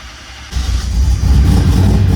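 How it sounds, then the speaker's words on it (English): A 1000-horsepower Lexus SC400 with a large Kelford cam, still untuned, starts with a sudden loud crank and catch about half a second in, then settles into a rough, choppy, deep idle close by. "so in order to start it with the keyless, you press the brake and you press the start button"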